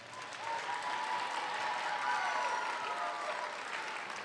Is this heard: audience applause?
yes